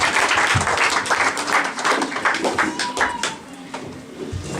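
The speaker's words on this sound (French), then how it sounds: "Applaudissez pour Jésus." Congregation applauding during a church deliverance service, dense rhythmic clapping that stays loud and fairly even for several seconds, with a few sharper hand slaps and low thumps mixed in.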